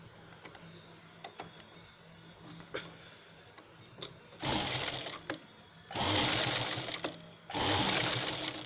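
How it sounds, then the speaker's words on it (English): Near, moderately loud bursts from a sewing machine stitching the round shape of a velvet purse come in three runs after some quieter handling clicks. "Now we stitch the round shape."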